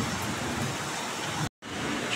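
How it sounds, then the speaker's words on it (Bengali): Heavy rain pouring steadily in a dense, even hiss with no breaks, close and loud, cut off for a brief moment before resuming. "দেখো কীরকম বৃষ্টি হচ্ছে"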